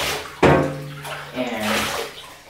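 Water splashes and pours over a dog being rinsed in a bath, a sudden gush followed by steady running and sloshing, close and fairly loud with a voice talking over it.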